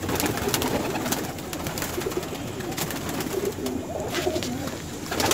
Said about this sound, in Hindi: ये हमारे जोड़े वाले कबूतर हैं, मद्रासी कबूतर हैं ये सारे।